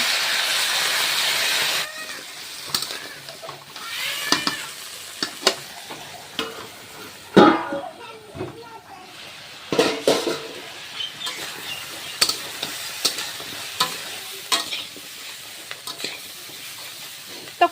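Crab curry with vegetables and potatoes is stir-fried in a pan, a steady hiss broken by repeated scraping stirs and clattering knocks, close and fairly loud.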